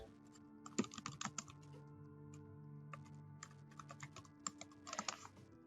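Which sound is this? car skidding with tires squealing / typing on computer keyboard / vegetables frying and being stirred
typing on computer keyboard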